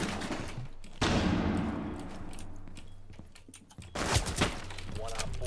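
Shotgun fire in Rainbow Six Siege, two loud booming blasts a few seconds apart, each with a long noisy decay, amid game ambience and players chatting over voice.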